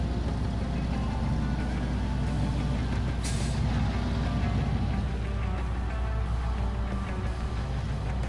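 A heavy off-road truck in the SnowRunner game fords a river: a loud, steady engine rumble blends with a continuous rushing wash of water, with no speech.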